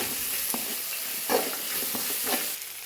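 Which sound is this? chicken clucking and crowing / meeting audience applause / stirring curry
stirring curry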